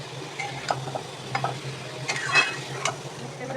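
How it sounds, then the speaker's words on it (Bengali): Ivy gourd with poppy seed paste and turmeric is stirred in a frying pan, a spatula scraping in scattered strokes over a steady low sizzle with a constant hum underneath, no voices. "এটাকে এখন নেড়ে নেড়ে একদম শুকনো করে ফেলতে হবে"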